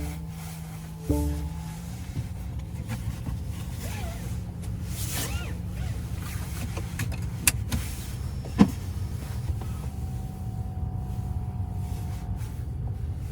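A 2025 BMW iX xDrive50 electric car powering up: a soft electronic startup chime and steady low hum with a few brief clicks and tones, quiet and close with no talk.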